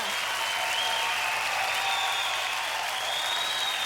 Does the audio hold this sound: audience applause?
yes